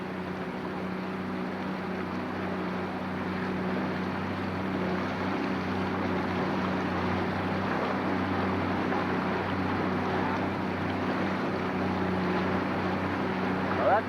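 Motorboat traffic passes on the water near a limestone shore, a steady engine drone and wash that swells slightly and stays constant throughout, with faint voices in the background.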